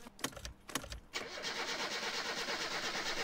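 A car engine in the video game My Summer Car cranks in a few rough bursts, catches after about a second, and settles into a steady, close running drone.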